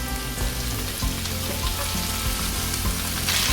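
Washed spinach hits a pan of hot oil and butter with sautéed garlic and onions and sizzles loudly and steadily, crackling throughout with no voices.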